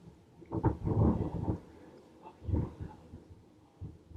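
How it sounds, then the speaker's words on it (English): Thunder rolling during a storm, deep low rumbles swelling in two main waves with quieter grumbling between, heard from a distance and moderately loud without talk. "It's thundering so badly, like there's such a storm."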